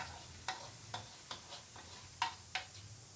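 Bamboo shoots stir-fried in a pan with oil until dry, a spatula scraping and tapping in a loose rhythm of about seven clicks over a faint, quiet sizzle.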